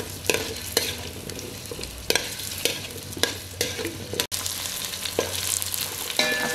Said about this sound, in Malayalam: നല്ലതുപോലെ ഇതൊന്ന് വഴറ്റിയെടുക്കണം.